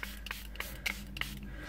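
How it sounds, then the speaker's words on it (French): A spray bottle mists water onto paper roses in a few short, close pumps, each a brief hiss followed by quiet handling. "je vais juste passer un coup de spray"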